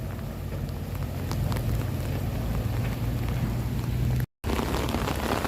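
Steady, dense rain hiss with a low rumble underneath, continuous and fairly loud, broken by a brief dropout near the end.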